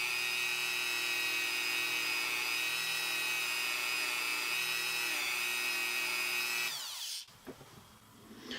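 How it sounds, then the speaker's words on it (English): A Dremel rotary tool with an abrasive cleaning pad buffs a metal figure, a steady high whine that holds loud and close, then winds down and stops near the end. "Use your Dremel tool, and you just use an abrasive cleaning pad, and you can just sort of, it actually almost polishes the metal."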